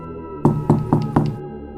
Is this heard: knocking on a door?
yes